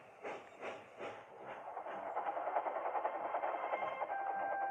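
Thomas the steam engine puffing across the countryside at night: rhythmic chuffs that quicken into a steady clickety-clack and hiss of a train rolling along the track, with a faint whistle-like tone near the end.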